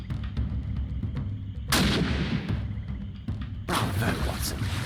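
Two heavy, booming gunshots from the gun in the video game Sherlock Holmes: The Awakened, each a broad burst about two seconds apart that rings over a dense, rumbling game ambience.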